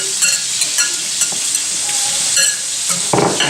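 Tomatoes being stirred into pan-fried Francese-style chicken in a frying pan, a loud steady sizzle with scraping and clinking of a utensil against the pan.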